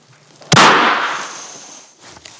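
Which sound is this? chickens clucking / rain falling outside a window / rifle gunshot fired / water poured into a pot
rifle gunshot fired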